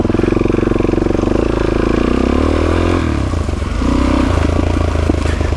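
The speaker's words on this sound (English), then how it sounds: "Gotta turn the motorcycle on first" A motorcycle engine runs loud and close on a muddy forest trail, a steady low idle with rattling clatter, dipping briefly before picking back up with uneven revving.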